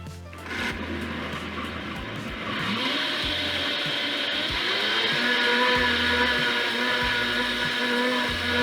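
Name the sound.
blender blending vegetable soup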